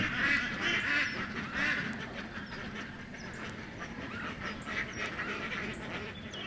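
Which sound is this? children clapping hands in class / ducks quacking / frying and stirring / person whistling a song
ducks quacking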